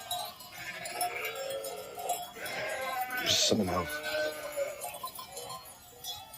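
A sheep bleats loudly in a wavering, drawn-out call, with a person talking over it and other farm sounds in the background.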